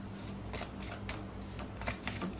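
A deck of playing cards riffled and shuffled at close range, a steady run of soft papery flutters with a few sharper snaps, heard alone over faint background hum.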